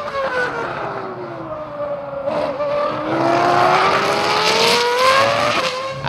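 Ferrari F2001 Formula One car driving at a Ferrari-Maserati festival, its high-pitched engine note dipping then climbing steadily as it accelerates, loud and close with a rising whine.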